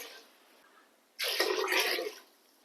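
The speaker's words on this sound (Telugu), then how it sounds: "గ్లాసుకి గ్లాసున్నర చొప్పున మూడు గ్లాసులు వాటర్ పోస్తున్నాను" Water poured from a glass into a pot of rice and chicken for chicken pulao, a single close splashing pour lasting about a second, loud against a quiet room.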